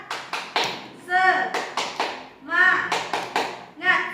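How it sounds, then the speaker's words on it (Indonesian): Classroom children stand and perform a rhythmic 'tepuk semangat' clapping chant, sharp claps in quick patterned bursts alternating with their sung chanting voices, close and lively. "Kita tepuk semangat ya. Tepuk semangat."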